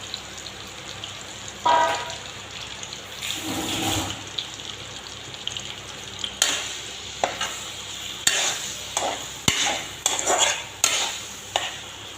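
Spiced marinated meat pieces hit hot oil in a pan, producing a steady sizzle with repeated stirring scrapes and clatters throughout, fairly close, with no talking.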